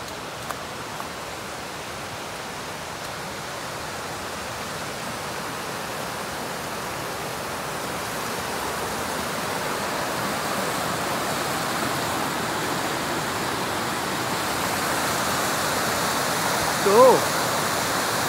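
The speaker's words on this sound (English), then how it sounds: "we're gonna pass right by, I believe it's Comer's waterfall" A waterfall beside the Appalachian Trail, a steady broadband rush of falling water that swells slightly louder as the hiker passes close by, continuous and unbroken.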